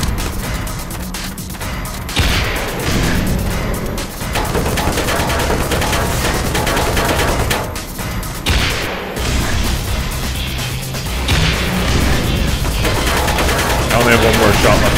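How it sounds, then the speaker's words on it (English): An Apache helicopter strafes with heavy gunfire in Black Mesa, a dense, loud, continuous barrage of rapid shots and crashing impacts lasting throughout, with a voice speaking over parts of the din. "Apache helicopter"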